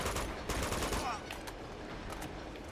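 Gunfire in the Uncharted 2 video game, rapid bursts of automatic shots crackling in quick succession over the game soundtrack, with a player's voice talking over it.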